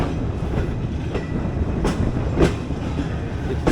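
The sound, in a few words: train shunting on railway tracks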